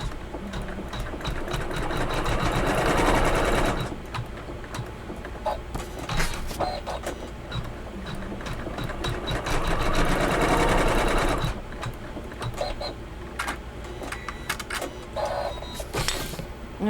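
An embroidery sewing machine stitches ovals onto blue leather with a fast, steady mechanical whir and needle chatter, swelling in two long bursts and easing between them, close and clear with no speech.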